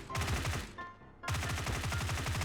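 A UMP submachine gun fires in a shooting video game in two rapid, loud automatic bursts split by a short gap, each a fast steady rattle of shots.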